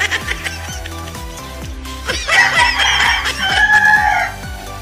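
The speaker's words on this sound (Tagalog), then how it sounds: "May mga manok dito, mga ka-idol. Maingay." Chickens cluck and a rooster crows loudly over a steady rhythmic beat of background music, with busy fowl calls filling the second half.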